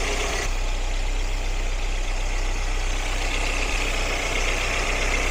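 Car engine idling smoothly with no knocking or clatter, a steady low hum and rumble heard close, holding an even level throughout with no talk.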